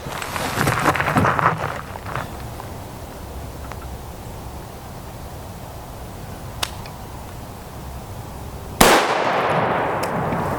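A .223 Remington rifle with a 16-inch barrel fires a single loud, sharp shot into a gel block, a sudden crack followed by a sustained rushing decay, with faint clicks and handling noise before it.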